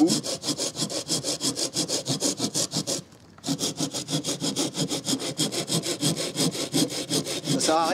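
A folding pruning saw, a Bahco Laplander or Fiskars, cuts through wood in quick, regular back-and-forth strokes, close and rasping, with a brief pause partway through before the sawing resumes.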